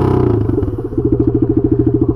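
A Honda XRE 300 motorcycle with its muffler removed, running on a straight pipe: a loud, close, rapid thumping idle that settles into an even pulsing rhythm after starting, with no voices.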